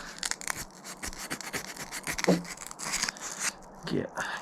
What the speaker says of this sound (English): sandpaper wrapped around. Give it a few twists.